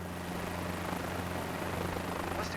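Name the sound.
helicopter in the video game Microsoft Flight Simulator 2024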